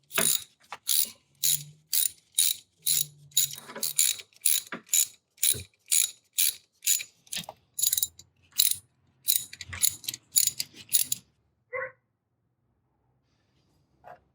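A ratchet tightens the starter bolts on a 2000–2004 Toyota Avalon in quick bursts of sharp clicking, with short pauses between strokes. The ratcheting stops, a single clink follows, then near silence, with no talking.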